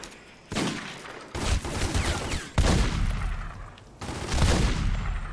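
Enemy gunfire in The Godfather: The Don's Edition game, several loud bursts of rapid shots separated by brief pauses, close and harsh, with no talk over them.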